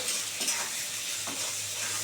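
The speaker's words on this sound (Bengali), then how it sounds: "দিয়ে এবার একটু ভালো করে ভাজা ভাজা হবে" Small sea fish (mourala) sizzle and fry in a pan with a little salt while being stirred, a steady close crackling hiss with soft scraping strokes throughout.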